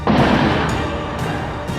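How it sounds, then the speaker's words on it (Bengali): A loud, close explosion during a militant attack in Mazar-i-Sharif hits at once, then rolls into a long, rumbling decay that fills the whole moment. "শোনা যায় বিস্ফোরণের শব্দ।"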